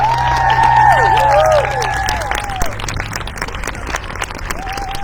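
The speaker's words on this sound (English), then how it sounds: "How about one more round of applause for our cash Children's Choir." An audience at a charity fundraiser event claps for a children's choir, the applause mixed with crowd cheering and high whistle-like calls that sweep up and down early, then thinning to looser clapping and murmur.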